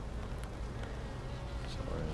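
Honeybees buzz steadily around an opened Flow Hive during a comb repair check, a dense continuous hum close by with no pauses across the short stretch.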